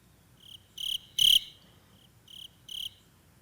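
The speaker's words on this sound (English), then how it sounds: "Put some crickets right there." Crickets chirp in a sound effect, five short bright trills spaced at uneven intervals over a faint, quiet background.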